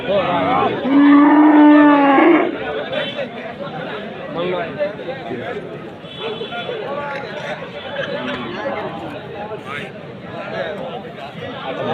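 A loud, drawn-out cow moo opens the scene, followed by steady crowd chatter and murmuring voices of a busy outdoor village cattle market.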